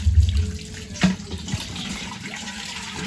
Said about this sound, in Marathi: हा कंटा आला ग पाणी भरायचा